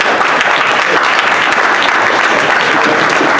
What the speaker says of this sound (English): She can get some applause